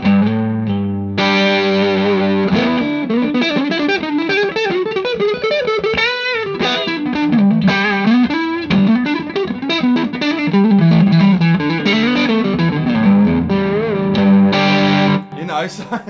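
Electric guitar played through a YellowRock CA35H hybrid valve and solid-state amp head with the gain turned up, a distorted, driven melodic lead with sustained notes and bends, loud and continuous.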